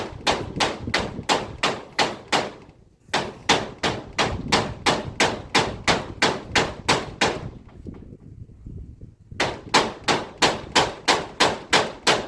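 A hammer pounds a post during house building in a steady, loud series of sharp, close blows, broken by two short pauses, with no talking.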